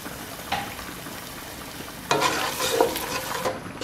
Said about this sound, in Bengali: সামান্য একটু পানি দিয়ে আমি মশলাটাকে কষিয়ে নেব।